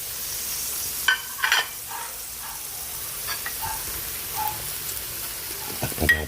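Mixed vegetables with cabbage stir-fry in a pan, a quiet continuous sizzle broken by a few brief scraping and stirring clanks.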